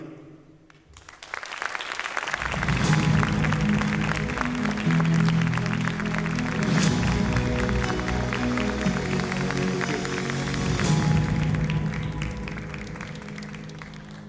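Conference audience at a space congress plenary bursts into sustained, loud applause welcoming a cosmonaut, steady clapping swelling after a quiet start and continuing for over ten seconds before easing slightly.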